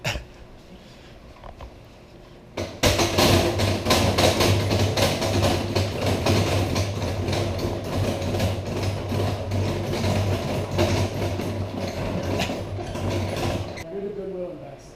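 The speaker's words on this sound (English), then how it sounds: "This is an extractor. In there can fit two, not one, but two frames." A honey extractor holding two frames spins up at a bee barn, a loud steady mechanical whirring and rattling that starts abruptly and runs on before stopping, with faint voices around it.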